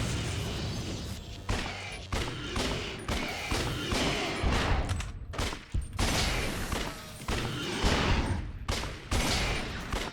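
Video game combat with a grenade explosion and dense, continuous gunfire, loud and sustained with heavy booms and rapid bursts throughout.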